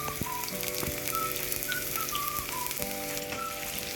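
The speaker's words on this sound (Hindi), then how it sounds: "अब मैं लहसुन जो है तकरीबन फ्राई हो गया" Four to five garlic cloves frying in a few spoons of oil in a pan, a steady close crackling sizzle with small pops and faint whistling tones, no talk.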